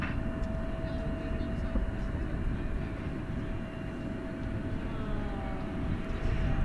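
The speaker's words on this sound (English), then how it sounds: "it's Turkish flight 191 coming in from Istanbul" Turkish Airlines flight from Istanbul coming in to land at DFW airport at night, a distant steady jet roar with a low rumble and a faint whine, sustained and even throughout.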